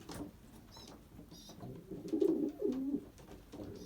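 Pigeons coo in soft repeated low calls around a loft nest box with young birds about 18 days old, faint and close, with a few brief higher chirps and light shuffling.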